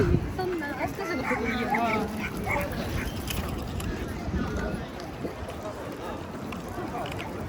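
Several dogs bark and yip amid a busy outdoor harbor crowd in Kobe, with people talking and the hum of a boat engine underneath.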